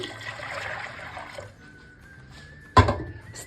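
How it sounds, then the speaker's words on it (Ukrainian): Water pours from above into a pot of soaked beans, a steady trickling stream that fades, followed by one sharp splash near the end; no voices. "заливаємо водою"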